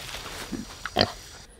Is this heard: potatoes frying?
no